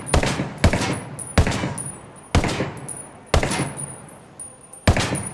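HK416 assault rifle fired in Ghost Recon Wildlands, about six loud, sharp single shots spaced roughly a second apart, each with a short decaying tail.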